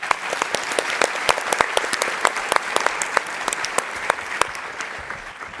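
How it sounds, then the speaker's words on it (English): Steady, dense audience applause at a Startup Battlefield pitch session, many hands clapping at an even level for several seconds without speech. "Give them a round of applause."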